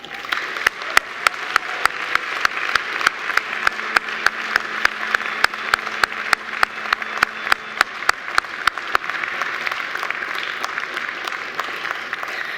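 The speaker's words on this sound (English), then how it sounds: "And please give them a big round of applause." Graduates at a Macquarie University graduation ceremony turn to applaud their family and friends, a sustained crowd of clapping with sharp individual claps standing out near the front, steady throughout the hall.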